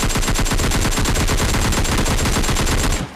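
Rapid automatic gunfire from PUBG Lite rattles continuously for about three seconds, loud and close, with a dense burst of shots before cutting off.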